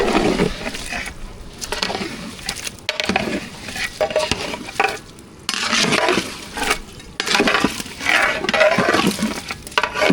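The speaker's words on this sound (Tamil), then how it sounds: "அரிசியை சேர்த்துக்கலாம் நல்லா கொட்டி நல்லா கலந்து விட்டுக்கலாம்" Rice stirred into mutton biryani masala in a pot: continuous scraping, clinking and shuffling of a spoon against metal with a faint sizzle underneath, close and steady with brief pauses, no talking.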